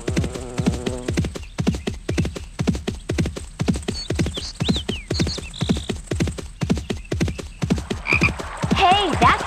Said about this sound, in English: Sounds like a frog.